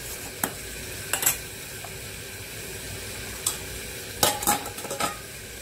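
Rice being cooked on a home kitchen stove: soft sizzling and bubbling runs throughout, broken by several sharp metallic clinks and scrapes of a spoon stirring against the pot.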